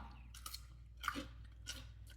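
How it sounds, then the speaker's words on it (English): Crunching bites into a mini cucumber, three or four short crisp crunches spaced about half a second apart, close and fairly quiet over a low steady hum. "So I can crunch on a cucumber."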